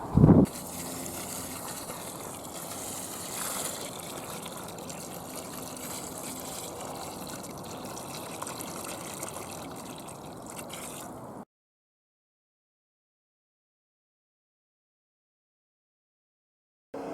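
Diluted comfrey feed splashes and trickles from a watering can onto a marrow plant in a garden plot, a steady close pour that suddenly stops and leaves silence.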